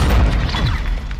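Explosion in Call of Duty Modern Warfare II during a Search and Destroy match, a short, loud, heavy boom with a deep low-end thump that fades quickly.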